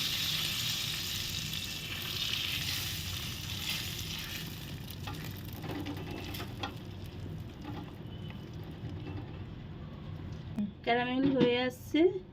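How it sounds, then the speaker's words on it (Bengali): Sugar and butter caramelize in a wok for butterscotch, giving a soft continuous sizzle and hiss with occasional stirring, fairly quiet, and a voice speaking near the end. "ক্যারামেল হয়ে আসছে, দেখুন"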